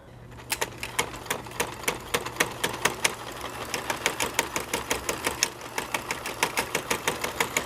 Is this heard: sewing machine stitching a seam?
yes